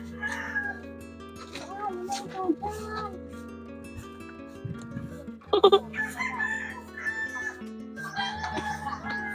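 Farmyard chickens cluck and a rooster crows amid other animal calls, including cat-like meows, while several people talk nearby.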